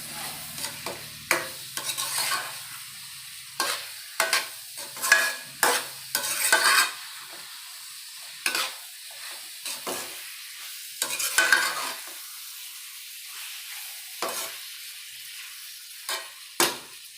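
A spoon stirs sweetened mango pickle frying in a pan, giving repeated close scraping strokes in irregular bursts over a faint sizzle, with no talking.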